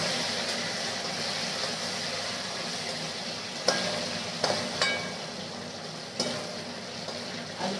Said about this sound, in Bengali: আলুটা ভাজতে বসিয়ে দিলাম,